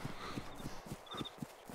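A cow runs in the video game DayZ, its hooves thudding in a quick, steady rhythm of soft, faint clip-clop beats with no voices.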